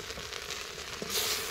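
Okra and other vegetables frying in oil in a pan for a curry, a continuous crackling sizzle that swells louder toward the end.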